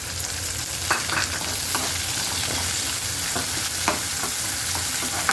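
Chopped onion sizzling steadily in a hot oiled pan for soybean chilli, a dense, even frying hiss with faint scrapes of stirring, close and continuous with no talking.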